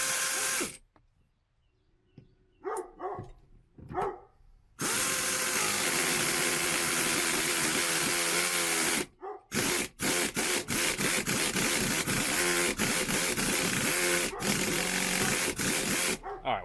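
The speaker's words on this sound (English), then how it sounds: "I guess this little reactionless ratchet doesn't have enough balls in it to do that" A small reactionless ratchet works on seat bolts inside a 2006 Ford F250 cab, giving loud bursts of whirring and clicking that start and stop in several runs and then hold steady, separated by brief quiet gaps.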